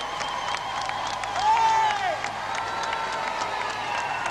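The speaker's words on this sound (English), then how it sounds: "Cheers and more cheers. Hooters and horns and rattles and bells." A large crowd cheers and applauds at a royal occasion, with hooters, horns, rattles and bells in the din; a sustained, steady roar in which a brief horn-like tone stands out partway through.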